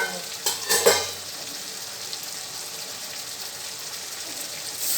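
Fish masala for tel tangra frying in oil in a pan with chilli and cumin powder, stirred by hand; a few sharp scraping stirs at the start give way to a steady, close, even sizzle.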